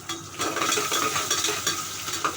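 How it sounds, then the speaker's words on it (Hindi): Mustard seeds and chopped onion sizzle and crackle in hot oil in a pressure cooker, with continuous close frying and a few stirring scrapes. There is no talk. "ये देखिए मैं प्याज डाल दिया मैंने, और साथ में सरसों भी डाली।"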